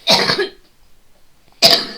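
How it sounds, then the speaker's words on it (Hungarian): A person gives two harsh, close coughs, with a short quiet pause between the bursts. "Közben csak köhögtem."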